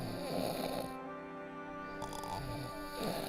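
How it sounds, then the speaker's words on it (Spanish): A person snores loudly, slumped against the side of a wooden cart on a journey, with deep rasping breaths repeating in a slow rhythm under steady background sound. "Sodia, roncando como un troll apoyado en el lateral del carro"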